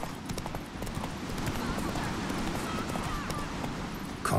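Hooves of Roach, Geralt's horse in the video game The Witcher 3, clip-clop steadily and close in a dense, continuous rhythm, with a soft voice briefly under the galloping.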